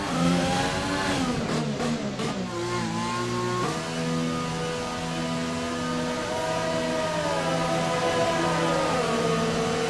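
An F1 car in the F1 2020 video game, driving for the Jordan team, stops in the pits. Its engine holds a loud, steady whine that dips and shifts in pitch, with no talking.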